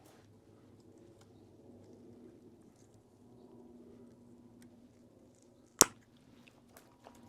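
Pruning shears make a single sharp, close snip as they cut a branch off a bonsai stump, with quiet handling noise before and after.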